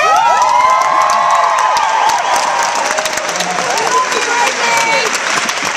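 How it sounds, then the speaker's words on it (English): A premiere crowd applauds and cheers loudly for Reggie, with dense, continuous clapping mixed with whoops and high excited shouting, including children's voices, sustained throughout at close range. "Can we have a round of applause for Reggie?"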